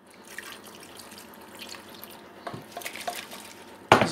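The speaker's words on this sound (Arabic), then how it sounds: "ما منديرش ليها بزاف الماء غير اللي يطيب فيها" Water is poured into a pot of salted vegetables for a potato and minced-meat gratin sauce, a soft close trickle and splash that builds gently, ending with a sharper clink near the end.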